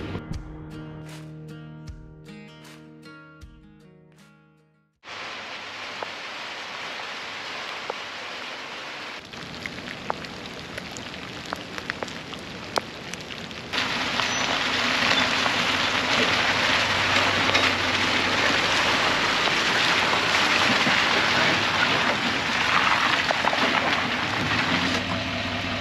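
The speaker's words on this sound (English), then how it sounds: "It's a little light rain." After a few seconds of tonal sounds, a steady hiss of light morning rain in Pittsburgh takes over, growing denser and louder about halfway through.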